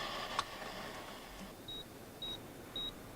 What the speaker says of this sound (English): I programmed my terminal to beep whenever anyone logged into the lab.